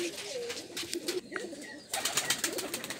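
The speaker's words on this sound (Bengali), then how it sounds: "কাউসার ভাইয়ের প্রিজন লফট খামারে এসেছি কবুতর দেখতে।" Pigeons cooing in a pigeon loft on a farm, with several soft, overlapping coos close by against a busy rustling background.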